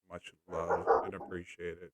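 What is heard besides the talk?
dog barking outside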